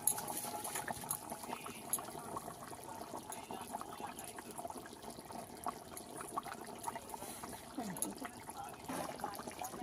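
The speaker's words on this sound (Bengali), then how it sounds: "মাছ দিয়েছি, একটু ফুটিয়ে নেব।" A pot of fish curry with potatoes and taro bubbles on the stove, a steady soft simmer with faint popping and liquid gurgles running throughout, with occasional speech over it.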